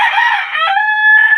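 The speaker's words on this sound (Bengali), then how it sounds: "ফার্মি মুরগি" Rooster crowing among Egyptian laying hens on a farm, one close, loud crow that rises and holds a strained, wavering tone for just over a second.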